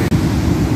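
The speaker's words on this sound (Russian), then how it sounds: "Волна моря." A heavy, rumbling wash of storm waves on the Black Sea at Lazarevskoye, Sochi, with wind, fills the short moment, loud and close, with no voices.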